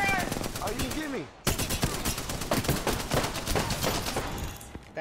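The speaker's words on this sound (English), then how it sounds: "That airstrike was on us." Heavy rapid gunfire and explosive blasts from an airstrike in the Apex Legends video game, loud and dense after a brief lull, with a voice talking beneath the barrage.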